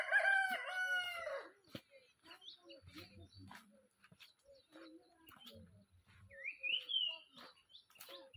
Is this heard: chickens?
yes